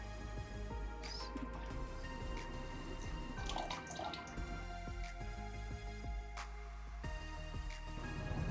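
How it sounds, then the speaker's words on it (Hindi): Vinegar is poured little by little into hot milk off the flame for homemade mozzarella, making soft trickling and dripping sounds over a steady background hum. "इसमें थोड़ा थोड़ा करके सिरका डालते जाएंगे"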